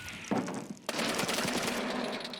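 Gunfire from an Escape from Tarkov-style raid shooter: a sharp shot followed by a second loud report with a long, rumbling reverberating tail, close and dominant.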